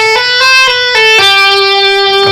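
An overdriven electric guitar plays a rock pull-off lick linked into a second run, a handful of quick notes ending on a long sustained tone, loud and close.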